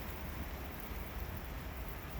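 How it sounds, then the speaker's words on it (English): Heavy rain pours outside a train, a dense, steady hiss of broadband wash that stays even and unbroken, with no voices. "Yeah, it's coming down pretty good. This is probably going to cause a flash flood somewhere around here. This is pretty good rain."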